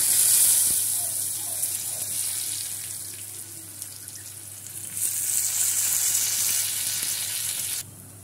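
Small shallots sizzle steadily in hot oil with a mustard seed, urad dal and asafoetida tempering for a capsicum chutney, a loud, continuous hiss that drops away sharply near the end.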